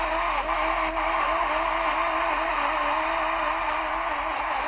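Car engine in a driving video game holds a steady, loud synthetic drone with a fluctuating pitch as the car slides and skids, heard alone with no talk.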